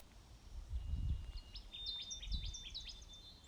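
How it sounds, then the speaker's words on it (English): A Connecticut warbler sings in eastern Alberta. Repeated bright, chirping song phrases come in a quick rhythmic run, fairly faint and distant, over low rumbling background noise. "Connecticut warbler."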